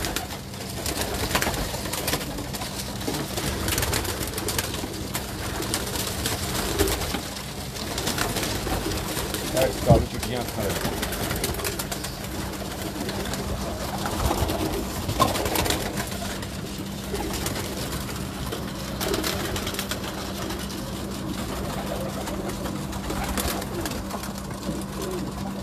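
A flock of Neel dumba pigeons coos steadily on a rooftop loft, a thick overlapping chorus over a constant low hum, with voices faintly talking in the background.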